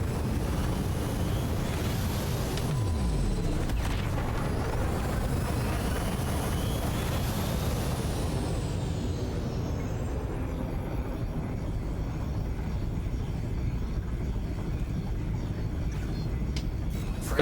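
A spaceship lifts off in the game Elite Dangerous: a steady, loud, broadband engine roar with a deep rumbling low end and airy, windy hiss. It sweeps slightly and holds constant throughout, with no voices.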